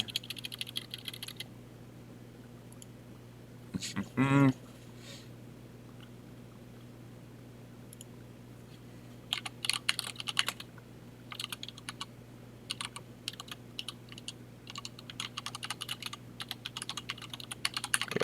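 Typing on a computer keyboard, with sparse key clicks early, a brief louder clatter, then a quiet stretch before rapid, irregular keystrokes resume and continue to the end over a low steady hum.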